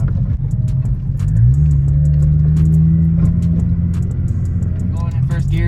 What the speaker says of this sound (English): I just started, so my car's still warming up.